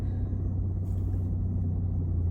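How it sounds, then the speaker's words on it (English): A loud car rumbles past nearby, its deep engine and road noise dominating a short stretch with steady low roar and no voices. "what is that loud car?"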